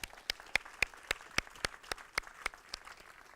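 Sparse, slow clapping from a small audience at a Veterans Day ceremony, with about a dozen distinct claps spaced evenly over soft background applause.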